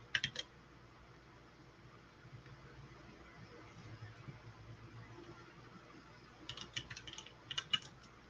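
Fast bursts of typing on a computer keyboard, crisp clicking clusters at the start and again near the end, faint and close against a quiet room hum with no talking.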